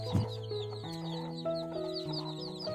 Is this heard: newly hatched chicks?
yes